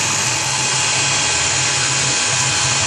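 A CNC vertical mill drills into wood blocks, giving a loud, steady, broadband whirring roar of spindle and machine that holds constant throughout, with no voices.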